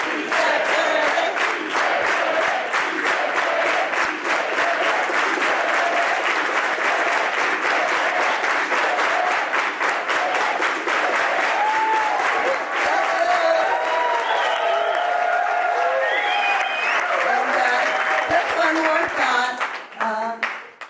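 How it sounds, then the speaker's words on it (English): An awards-event audience performs an organized unity clap, loud and rhythmic, hands beating together in a fast even pulse for about twenty seconds, with voices and cheers rising over it before it stops abruptly. "We're going to do an organized unity clap."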